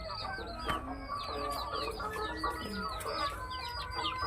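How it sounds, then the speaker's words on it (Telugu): Chickens on a backyard poultry farm cluck and chatter continuously, several birds close by with overlapping calls and no talking. "ఇక్కడ కొన్ని కోళ్ళు ఉన్నాయి"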